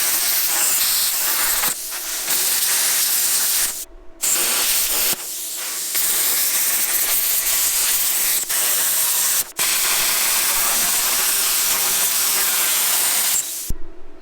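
A Warfox plasma cutter slices through 3/8 inch steel during a truck X-frame build, producing a loud, continuous rushing hiss that breaks off briefly several times as the torch stops and restarts; no talking.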